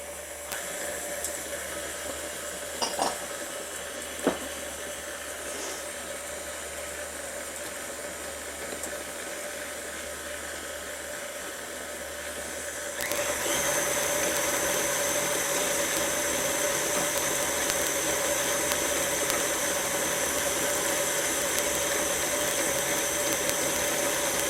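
An electric mixer whirs steadily as it beats white and light brown sugar together for red velvet cookie dough, with a couple of faint clicks early on. Partway through it jumps to a louder, harsher, higher-speed drone that holds to the end.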